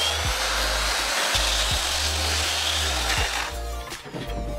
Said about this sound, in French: Puis je ponce tout ça donc sur le dessus, sur les côtés et sur les arêtes.